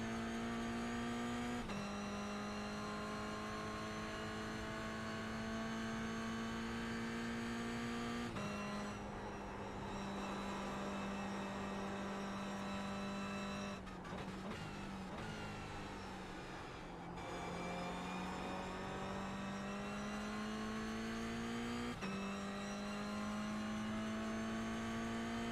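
Toyota GR86 engine lapping Oulton Park International in a racing game, a steady loud drone with clear harmonics that rises and falls through gear changes and lifts for corners, running continuously with no talk.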